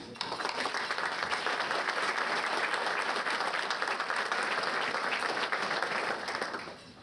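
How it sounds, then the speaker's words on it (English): Banquet audience applauding Hall of Fame members at an athletics Hall of Fame banquet, a sustained wash of many hands clapping that swells in, holds evenly, and tapers off at the end. "let's applaud for them"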